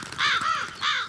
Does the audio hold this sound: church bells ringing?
no